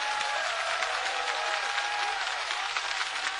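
Steady crowd applause fills a political rally, a dense wash of clapping and cheering that holds at a loud, even level throughout.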